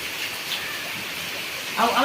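Steady rain in Jaffna hisses softly throughout, with a voice starting to speak at the very end.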